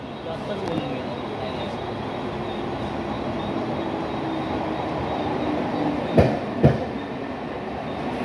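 A train passes at a station platform in Thane, a steady broad rumble of wheels and carriages filling the scene, with two short sharp clanks near the end and faint background voices.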